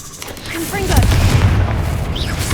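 A Confringo explosion spell in Hogwarts Legacy lands as a deep, rumbling boom that swells and lingers, mixed with whooshing effects and voices shouting.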